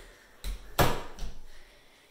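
A walk-in closet door in a residential house in Copperas Cove, Texas swings open with a few soft wooden knocks and a latch click, close by in a quiet room with no talking.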